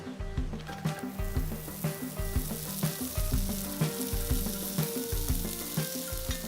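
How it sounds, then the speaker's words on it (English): Diced pancetta, in roughly one-centimetre cubes, crackles loudly in a very hot pan, its dense sizzle pulsing in a quick, even rhythm with bright spitting pops throughout. "straight into a very hot pan"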